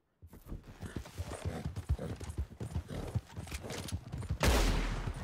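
Horse hooves clip-clop at a quick, steady gait in the Red Dead Redemption 2 video game, mixed with scattered gunshots and a loud burst near the end.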